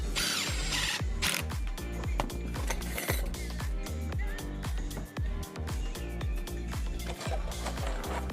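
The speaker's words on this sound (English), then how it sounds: "just putting the screw in" A power drill drives a screw through a composite decking clip into an existing subframe, its whirring motor rising in loud repeated bursts with a rhythmic mechanical ratchet throughout.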